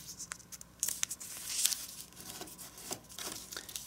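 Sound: folding and creasing origami paper

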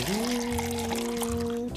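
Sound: water being poured from a jug

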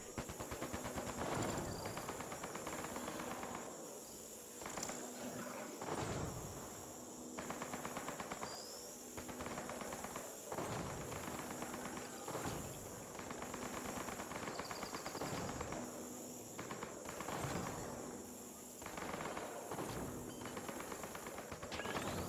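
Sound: turrets firing, Mass Effect Andromeda video game

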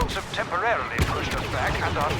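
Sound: gunfire in video game Star Wars Battlefront

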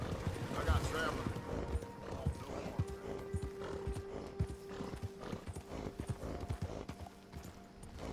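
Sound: horse hooves clip-clopping, from a video game

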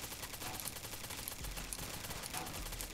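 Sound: HK416 rifle gunfire in video game

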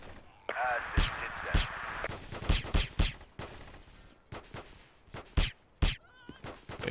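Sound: silenced gunfire, video game

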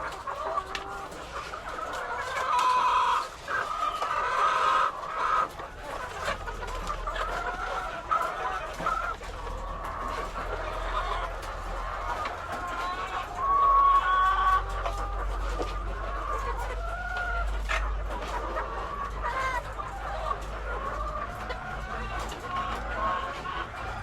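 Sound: chickens clucking and crowing

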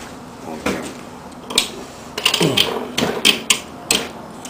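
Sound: tightening bolts during axial flux alternator assembly

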